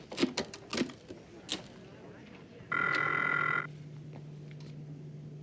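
An old-fashioned telephone bell rings once in a steady electric trill in a film scene, following a few sharp bumps and short voice sounds.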